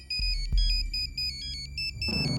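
A mobile phone ringtone plays a repeating electronic melody of bright tones, heard close and clear. A couple of soft thumps come near the start and a brief burst of other sound comes at the end.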